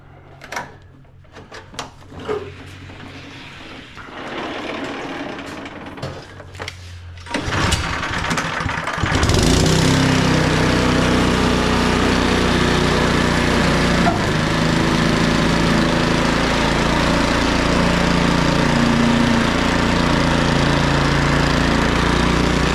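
An MTD-made Troy-Bilt or Cub Cadet entry-level snowblower engine is fired up after some handling noises, then runs loud and steady, a continuous close roar that fills the rest of the clip.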